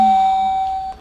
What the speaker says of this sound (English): This is doorbell two.